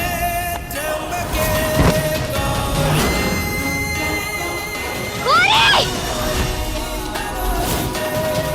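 In a TV drama scene, a brief, wavering scream rises from a room, partly masked by loud background music and ambience.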